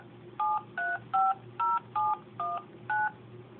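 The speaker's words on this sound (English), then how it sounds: "So I'm going to dial the number again." Touch-tone dialing beeps from a MagicJack phone service as a number is dialed again: eight short, evenly spaced two-tone presses, fairly quiet over a low background hum.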